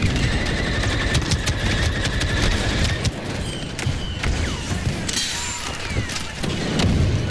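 Rapid bursts of gunfire in the Star Wars Battlefront 2 battle, dense blaster shots crackling loudly and continuously with occasional heavier booms mixed through the firefight.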